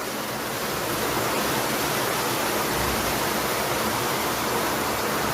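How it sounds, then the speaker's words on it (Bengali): Heavy rain pours steadily onto a street already flooded with water, a dense, even roaring hiss with no pauses, loud and close, with no voices. "কি পরিমাণ বৃষ্টি!"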